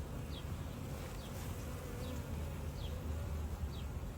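Honey bees buzz continuously during a hive inspection, a dense low hum with a few individual bees passing close at intervals.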